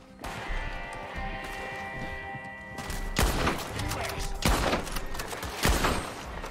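A gunfire shootout rages in a bounty-hunt mission of a western-style video game, with rapid overlapping shots and several sharp loud cracks over a steady music bed, close and continuous with no talking.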